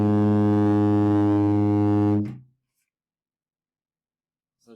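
A tuba sounds one long, loud, sustained low note with rich harmonics for about two seconds before cutting off into silence, with a faint click near the end.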